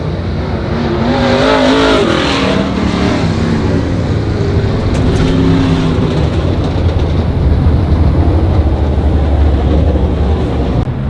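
Modified race cars at Monarch Motor Speedway taking the green flag, a pack of engines roaring and building together, loud and continuous with layered revving tones and no voices.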